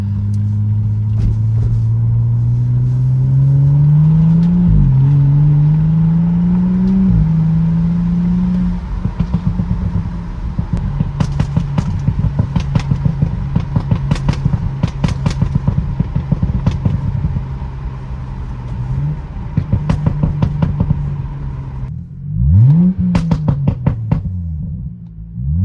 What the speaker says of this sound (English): The car's got a super deep tone now.